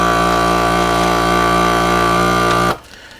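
A Vac Mouse vacuum sealer runs on a bag holding a dry-aged ribeye under a closed Kamado Joe lid, a steady loud motor drone that cuts off abruptly near the end, leaving quiet.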